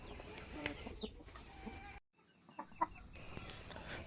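Wyandotte chickens cluck softly in a busy yard, with scattered short calls and a brief pause midway, no talking.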